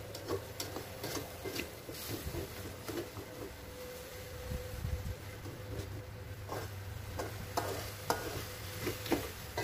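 Anchovies and peanuts stir-fried in oil in a pan give off a steady crackling sizzle, broken by repeated scraping and stirring strokes of a spatula, close and continuous with no talking.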